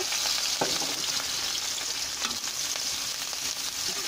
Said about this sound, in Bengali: এখন আমি এই তেলের মধ্যে আরও একটু তেল অ্যাড করে পেঁয়াজ কাটা আর কাঁচামরিচ কাটা দিয়ে দিব